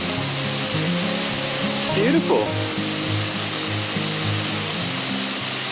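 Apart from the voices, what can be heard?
waterfall in Nova Scotia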